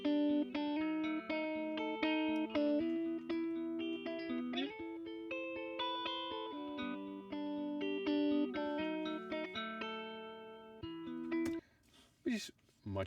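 Electric guitar chords shimmer with a pulsing tremolo and spacious reverb, playing steadily and loud before breaking into a brief noisy flourish near the end.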